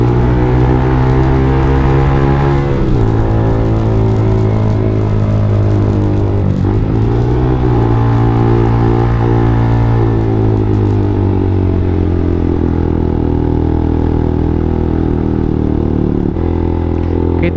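Single-cylinder motorcycle with its exhaust modified to sound like a twin, rumbling loud and close for the whole stretch, its steady throaty note rising and dipping a few times as the throttle changes.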